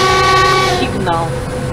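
Blaring, sustained train horn from an EP1M passenger electric locomotive in the ZDSimulator train game, loud and harmonic-rich, cutting off partway before a lower tone lingers.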